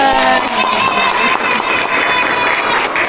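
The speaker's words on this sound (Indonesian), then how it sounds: "Oke, tepuk tangan dulu." A classroom of students claps and cheers together in one loud burst of applause that fills the short moment, with scattered shouts mixed in.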